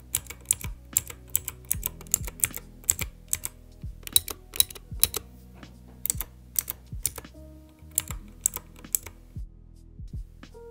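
Typing on an E-Yooso Z-88 60% mechanical keyboard with blue switches, close and crisp, a quick uneven run of sharp clicky keystrokes with brief pauses, no voice.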